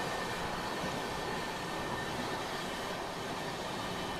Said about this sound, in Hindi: ये बड़ी सजी सजाई ट्रेन पास से गुजर रही है